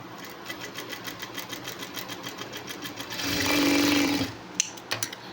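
A sewing machine stitches a high-neck blouse with a quick, steady run of needle clatter. It swells into a louder whirring burst near the end, then a few separate thumps, close and clear with no talk.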